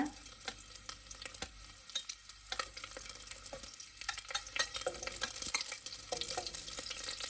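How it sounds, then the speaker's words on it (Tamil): Mustard seeds spluttering and popping in hot oil in a pan, with quick, sharp crackles scattered over a steady sizzle that grows a little denser toward the end. The sound is fairly quiet and close, with no talking. "இப்போ கடுகு பொரிஞ்சு வருது"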